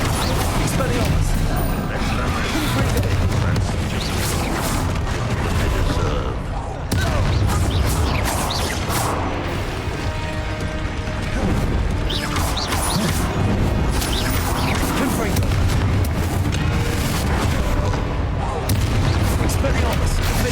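Rapid Hogwarts Legacy combat, Expelliarmus and other duelling spells cast in quick succession, with continuous loud bursts, crashes and impact booms layered over a busy game soundtrack, no gaps between hits.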